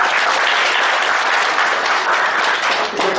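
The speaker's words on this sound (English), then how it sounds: "Please give him a crowd of applause." An audience at a tax seminar claps loudly and continuously, a close, dense burst of applause that holds steady before easing slightly near the end.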